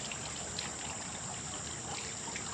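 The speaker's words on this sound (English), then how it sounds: "when you water with a watering can, it comes out slower" Water trickling gently from a watering can into potting mix in a planter, a soft steady stream with a faint high hiss, close and continuous without any speech.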